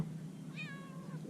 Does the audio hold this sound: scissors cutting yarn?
no